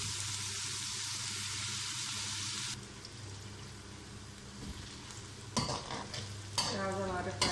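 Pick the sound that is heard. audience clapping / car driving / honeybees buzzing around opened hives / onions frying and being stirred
onions frying and being stirred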